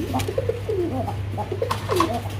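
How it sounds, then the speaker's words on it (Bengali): Fancy pigeons in a dealer's loft coo repeatedly, several rolling, throaty calls overlapping at close range over a constant low mechanical hum. "এখানে আরও এক জোড়া কবুতর আছে"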